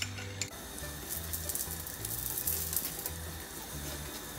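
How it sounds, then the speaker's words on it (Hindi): Puran poli roasting in ghee on a hot griddle gives off a steady, soft sizzle that runs continuously and fairly quietly throughout, with no one talking. "तो सेम तरह से हमें दोनों साइड पे ऐसे घी लगाना है और हमारी पूरन पोली को हमें अच्छे से सेक लेना है"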